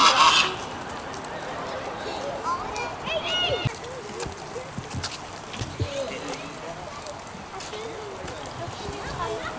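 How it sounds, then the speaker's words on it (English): Geese honk excitedly outdoors at a Christmas lights walk in Pigeon Forge, Tennessee, in scattered bursts of varying loudness, with a brief loud noise at the very start. "These geese are going crazy over here."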